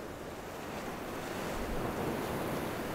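Ocean waves at sea roll in a steady, unbroken wash of surf, close and full, with wind rumbling across the microphone and no voices.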